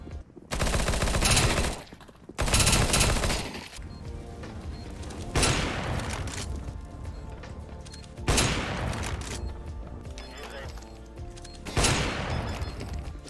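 Rapid P90 submachine gun bursts in Counter-Strike: Global Offensive, several loud sustained sprays of close automatic fire separated by short pauses, the later bursts sharper and more clipped, with no voices.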